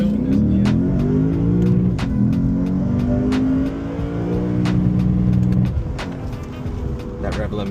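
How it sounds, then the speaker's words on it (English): A Lexus IS500 V8 revs hard against its rev limiter, a loud droning engine note with stuttering cut-outs, heard from inside the car over a steady cabin rumble, with people talking. "That rev limiter."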